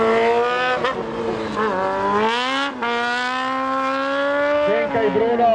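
Racing vehicles roar past on a race track during a 1000-class race, loud whining engines rising and falling in pitch as they pass close by, with a brief dip before the sound surges again.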